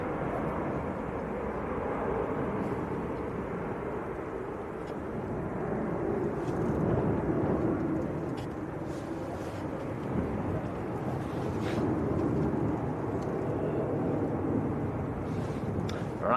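A Norse airliner departing Manchester Airport gives a steady, broad jet roar that holds throughout and swells slightly, heard from a distance mixed with wind buffeting on the microphone.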